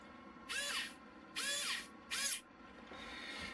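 An electric screwdriver runs in three short bursts of high whirring, each close and about half a second long, separated by brief pauses over a quiet room hum; a fainter fourth whir follows, with no voices.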